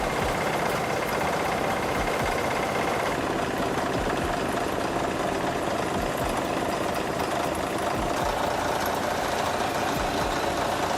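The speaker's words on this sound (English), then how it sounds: "Caterpillar D9G is one of Caterpillar's famous bulldozers, known for its power and ability to work in harsh conditions" Caterpillar D9G bulldozer with a six-cylinder diesel engine of up to 350 horsepower, running at a steady idle-like rumble with knocking texture, continuous and fairly loud throughout with no speech.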